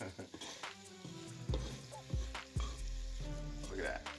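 Chili ingredients sizzle in oil in a pot, a soft steady frying hiss broken by a few scraping stirs and clunks against the pot.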